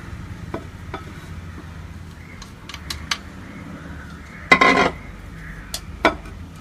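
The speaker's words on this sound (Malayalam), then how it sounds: "ഇനി നമുക്ക് ഈ ബ്രെഡ് ക്രംസും തേങ്ങയും കൂടി ഒന്ന് മിക്സ് ചെയ്തെടുക്കാം" Breadcrumbs and grated coconut are mixed in a bowl, giving soft scraping and stirring sounds with scattered light clinks and one louder rattling scrape, all close and fairly quiet.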